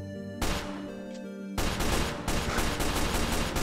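Rapid bursts of gunfire in a Minecraft Five Nights at Freddy's pizzeria roleplay game, a loud sustained volley starting abruptly and continuing in dense repeated shots with a brief lull, no talk over it.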